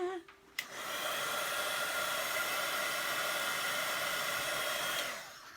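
A hair dryer drying a loose watercolour painting switches on after a short click and blows steadily at close range with a loud, even whoosh, then winds down near the end.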